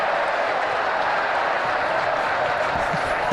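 A T20 cricket crowd at a Gloucestershire versus Sussex Sharks match applauds and cheers a run out, a broad steady wash of clapping and voices with no commentary on top.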